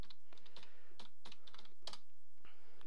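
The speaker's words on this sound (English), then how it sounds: "type in a username and password" Several bursts of quick key taps on a computer keyboard as a router username and password are entered, close and fairly quiet, with short pauses between groups of keystrokes.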